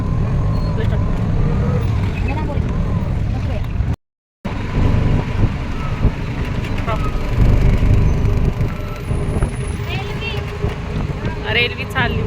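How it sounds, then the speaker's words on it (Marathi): Road traffic heard from inside a moving vehicle, a continuous low rumble of engines and road noise with a brief cutout and faint honks, under ongoing talk. "फक्त ट्रॅफिक आहे ना"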